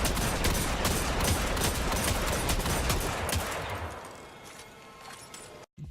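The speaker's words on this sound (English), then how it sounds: "firing at their max fire rates to see how much more slower a 150 RPM hand cannon fires than a 180 RPM hand cannon" Two video-game hand cannons, Luna's Howl at 150 RPM and Midnight Coup at 180 RPM, each with a 13-round magazine, fire at their maximum rates in loud, rapid overlapping shots that stop abruptly, leaving a fading tail.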